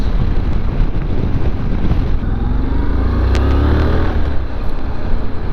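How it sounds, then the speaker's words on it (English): A Honda NC700X motorcycle engine revs up, its pitch climbing for a couple of seconds, partly buried under loud, rushing wind noise. "the engine like sounds pretty good when you're like revving it"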